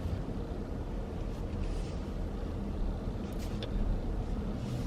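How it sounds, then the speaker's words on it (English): Heavy road traffic heard from inside a car, a steady low rumble of engines and tire noise with faint passing sounds, no talking. "gosh, there's so much traffic"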